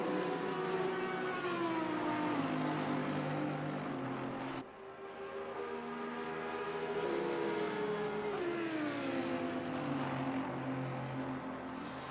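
Race cars, including a Porsche and a Mercedes, howl around a track in the ACC sim racing game, engines loud and steady with rising and falling pitch as they shift gears and pass close together, a brief dip midway.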